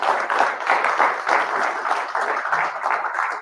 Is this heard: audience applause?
yes